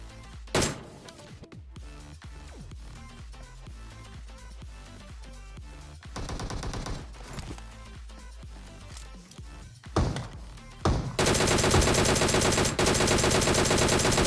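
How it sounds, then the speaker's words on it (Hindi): Gunfire from a PUBG Mobile match rings out as short machine-gun bursts and single shots, separated by quieter gaps, before a long, loud sustained stretch of shooting at the end. "और पीछे से और भी फायरिंग की साउंड आई है मेरे को"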